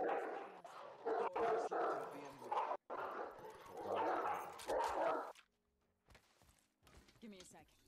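A dog barks and whimpers repeatedly in the background of a live gaming stream, the bursts coming in uneven clusters under people talking, followed by a quieter stretch.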